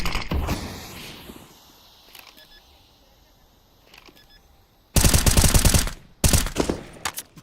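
Video game roleplay firefight with short bursts of rapid automatic gunfire, loud and close, cutting in after a quieter stretch of faint mechanical clicks and rustle, with a voice briefly heard.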